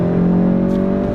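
A 2017 Volkswagen GTI engine hums steadily under load while driving, a sustained close drone with a mild rise in pitch, heard alone without talk.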